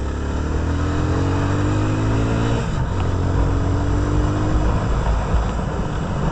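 A motorcycle engine idles and revs loudly up close while gears are shifted forcefully without the clutch, its droning note dropping briefly at a gear change before settling into a steady, rough run.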